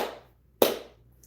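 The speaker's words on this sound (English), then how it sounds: "I'm going to do a slow clap for Capricorn." A single slow clap rings out, one sharp, close hand clap after a short lull, fading quickly into quiet with no talking.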